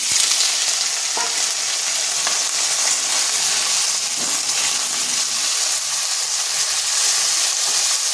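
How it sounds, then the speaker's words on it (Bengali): Cut potatoes frying in hot oil with five-spice (panch phoron) and dry red chilies, giving a steady, close sizzle with light stirring scrapes throughout and no talking. "ফোড়নে দিচ্ছি 5 ফোড়ন আর শুকনো লঙ্কা। দিয়ে দিচ্ছি কেটে রাখা আলু।"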